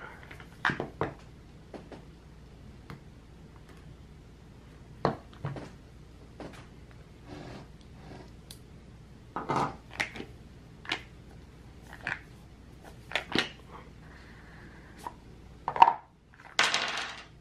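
A Sabacc board game box from Disney is opened and handled: scattered cardboard rustles, taps and clunks of pieces and dice, sporadic and close, with quiet gaps in between.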